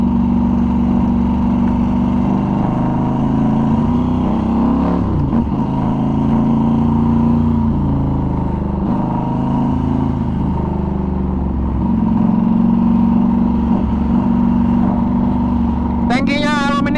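A Norton Commando 961 SF Mk II motorcycle fitted with an aftermarket exhaust in place of the original silencer runs steadily at a low, throbbing idle. The engine holds close and loud throughout, with a short burst of higher noise near the end.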